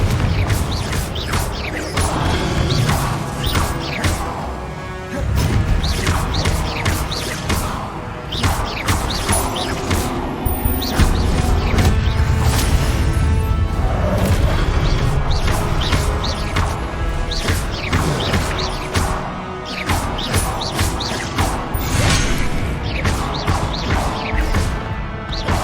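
Confringo blasting spells cast in Hogwarts Legacy, a rapid run of loud crashing impacts and booming bursts packed together over roughly twenty-five seconds of hectic spell combat, with game music and effects layered underneath.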